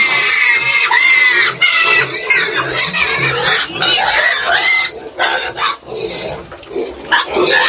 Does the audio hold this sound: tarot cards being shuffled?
no